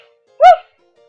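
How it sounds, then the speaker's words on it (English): A single short dog bark, one clear woof recorded close and loud against near silence. "The dog makes the sound woof, woof."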